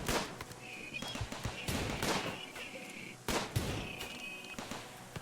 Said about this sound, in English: As you can see, the amount of gunfire that they take it can be simply mind-boggling.